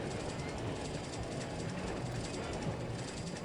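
A train running in the video game RollerCoaster Tycoon 2, a continuous rumbling rail sound with faint rhythmic clacking, steady and moderately loud for the whole stretch.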